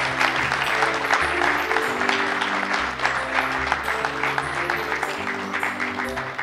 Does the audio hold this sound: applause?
yes